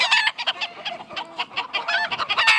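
A flock of Andalusian chickens, including blue birds, clucks in dense, overlapping bursts close by, rapid and uneven, with no voices over them.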